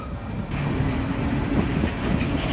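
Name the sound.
Union Pacific coal train of empty cars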